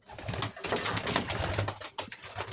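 Newly weaned young pigeons coo repeatedly, a close, fairly loud run of soft throaty calls with some fluttering and rustling, no talking.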